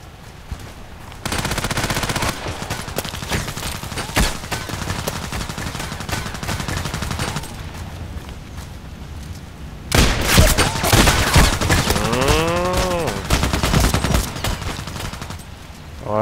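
Automatic weapon fire rattling in bursts in the Contract Wars shooter game, loud and sustained, with heavier volleys and a few brief whooshing effects partway through.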